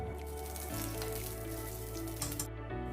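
Ghee heating in a pan on the stove, giving a steady soft crackling sizzle with faint popping, close and continuous throughout.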